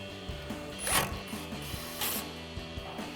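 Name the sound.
ratchet tightening a 10mm bolt on a brake line bracket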